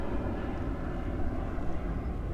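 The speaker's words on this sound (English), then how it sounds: "There goes another plane." An airplane flying overhead, a low continuous engine rumble at steady moderate loudness with no speech.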